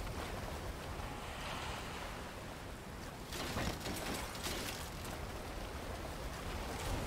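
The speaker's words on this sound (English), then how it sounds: "the city underwater, having leaking water is not bad" Rushing, splashing water leaking into an underwater city in the video game BioShock, a steady broadband wash that surges louder partway through, heard alone without talk.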